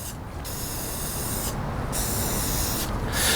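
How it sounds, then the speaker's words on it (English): Aerosol spray paint hissing steadily onto rows of 3D printed dungeon wall pieces, held close and swept back and forth in several continuous bursts with brief gaps between passes. "hold the spray can about 6 inches away, and then I'm just going to go back and forth"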